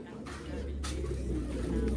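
Racing pigeons coo in a low, steady murmur close by, with a brief airy rustle and faint voices in the background.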